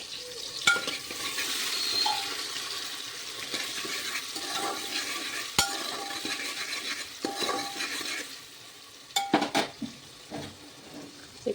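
Chopped onion frying and being stirred in a pan while cooking Marathi-style dal baati, with a steady sizzle under scraping and clinking of a utensil against the pan, close and fairly loud, a few sharper knocks near the end.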